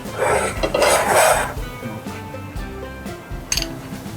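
A metal pan clattering and scraping on the stove while beef and salami stuffing cooks with butter, giving bright rattles and clinks in short bursts, followed by softer knocks and faint sizzling.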